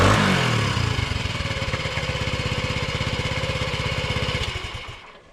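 Honda CT90 motorcycle single-cylinder engine kicked over and catching, then a rapid even popping idle close by, fading as it shuts off after about five seconds.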